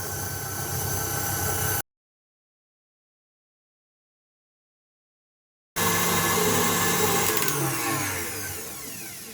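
An electric mixer beats eggs, sugar and vanilla sugar for a big batch of muffins, a loud steady whirring that stops for a few seconds, then starts again and gradually fades toward the end.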